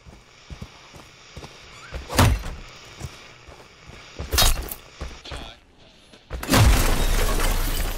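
Doors inside a house in Friday the 13th: The Game bang and crash in three loud, sharp bursts separated by quieter thumps and creaks, the last one longest and harshest.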